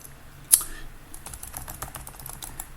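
Someone types on a computer keyboard that is forwarding input to a Steam Deck. A single sharp key strike comes first, followed by a light, fairly steady run of quieter clicking keystrokes close by.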